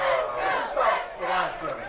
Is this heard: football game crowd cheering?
yes